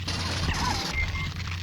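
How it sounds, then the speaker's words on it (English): Smart gun firing in the video game Aliens versus Predator Classic, a loud, continuous burst of gunfire with crashing impacts running through the whole short stretch. "I'll use the smart gun on these guys"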